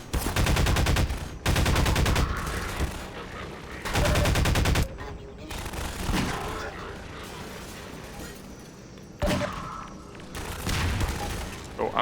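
Shotgun blasts in Half-Life 2: Lost Coast on hard difficulty, several loud booming shots in bursts with reload clicks and other game gunfire between, heard up close.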